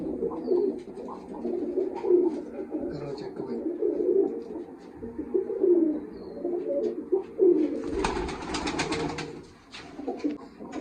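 Pigeons kept by a breeder coo in a repeated, rhythmic low murmur close by, with someone talking over them and a brief rustling burst near the end.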